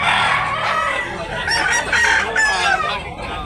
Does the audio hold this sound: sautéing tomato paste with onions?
no